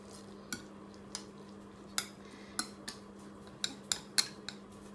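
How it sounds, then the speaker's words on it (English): Light clinks and scrapes of a utensil stirring a vegan vegetable omelette mixture in a bowl, irregular taps over a faint steady hum. "So we just give it a nice stir."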